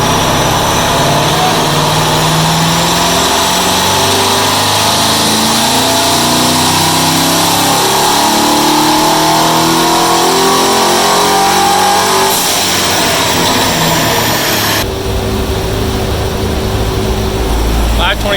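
A twin-turbo Chevrolet Corvette C7 makes shakedown passes, its engine roaring loudly and continuously. Revs climb and shift, with distinct changes late in the run.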